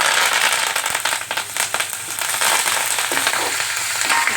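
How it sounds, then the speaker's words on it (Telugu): Dry red chillies and curry leaves hit hot tempering oil for a brinjal, tomato and coriander roti pachadi, crackling and spitting loudly and continuously with sharp pops up close. "ఇప్పుడు ఎండుమిర్చి కరివేపాకు వేసేద్దాం"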